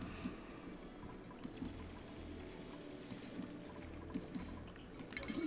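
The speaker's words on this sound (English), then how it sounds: "Doesn't it sound like water's trying to come out of somewhere?" Water gurgles and trickles in the Oxygen Not Included colony game, a faint pouring and dripping sound with occasional small splashes, low and continuous throughout.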